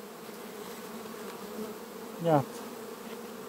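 Honeybees hum steadily at a hive in September as frames of stored honey are checked, a close continuous drone with one louder buzzing bee passing near the middle; a single brief spoken word comes through.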